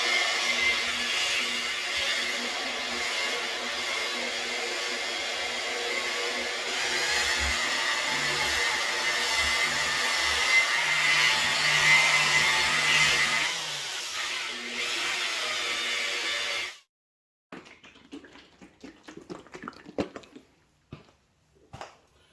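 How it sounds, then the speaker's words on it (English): A polisher buffing compound off a Jeep Cherokee XJ fender flare runs with a steady, fairly loud whirring hum for about seventeen seconds, then stops, leaving brief faint handling clatter. "finish and polish here to just take out any swirls and imperfections from the compound."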